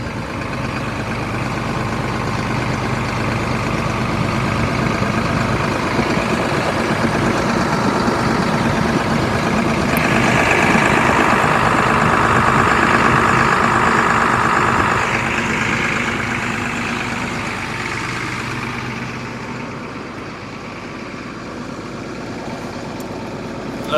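A used excavator's diesel engine and hydraulic pumps run at a steady idle from up in the engine bay, a loud continuous low rumble with mechanical whine that swells in the middle and eases off near the end.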